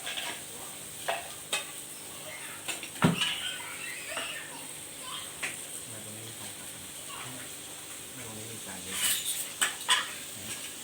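Pork sizzling on a Thai moo kratha grill, a soft steady frying hiss with faint stirring clicks and clatter of utensils throughout, heard close and moderately quiet.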